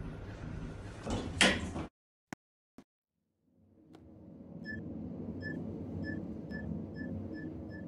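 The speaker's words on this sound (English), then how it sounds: "Doors closing." Elevator doors in a Roblox game slide shut with a short whoosh and a couple of soft clicks. A quiet hum then follows, broken by a faint chime that repeats at a steady pace.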